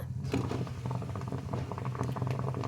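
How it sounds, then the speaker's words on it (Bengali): The lid of an idli steamer comes off over simmering water, a metallic clink followed by steady bubbling and light rattling close by, with no talking. "ইডলির ঢাকাটা খুলে দেখে নেব।"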